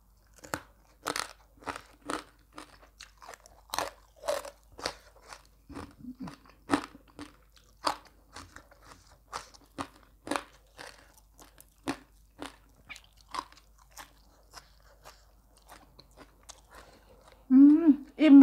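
Someone bites and chews crispy fried pork in sharp, close crunches that repeat steadily over a quiet background, with a brief voice near the end.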